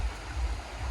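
A river flows steadily past a quiet farm, a full broadband rush of moving water with no breaks over one second.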